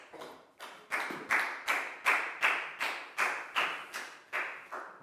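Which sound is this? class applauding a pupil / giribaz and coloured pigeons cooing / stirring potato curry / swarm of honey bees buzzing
class applauding a pupil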